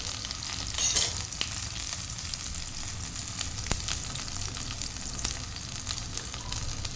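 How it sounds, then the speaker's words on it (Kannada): Dried red chillies fry together in a pan for a coastal jackfruit sukka. A steady, close sizzle runs throughout, with a brief stirring scrape near the start and no talking. "ನೋಡಿ ಇವಾಗ ಎಲ್ಲವನ್ನು ಒಟ್ಟಿಗೊಮ್ಮೆ ಫ್ರೈ ಮಾಡ್ತೇನೆ."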